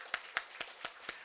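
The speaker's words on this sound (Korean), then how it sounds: "오늘 처음으로 함께 드리는데 박수로 환영하겠습니다." Five separate, evenly spaced claps ring out in a church service as the congregation welcomes a newly engaged couple, each sharp and fairly close, with quiet between them.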